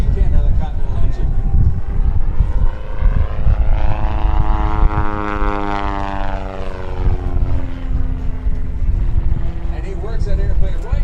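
A small two-seat airplane with a 90 horsepower Continental engine passes overhead during an open house airshow at a joint base, its propeller drone swelling and falling with a Doppler sweep under crowd noise and a voice talking.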